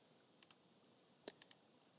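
Computer mouse clicks in a quiet room, one quick double click followed by a cluster of three or four sharp, faint clicks, close and alone.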